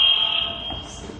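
A building fire alarm sounds during a morning evacuation, a loud, steady electronic buzzing tone held alone with no talk.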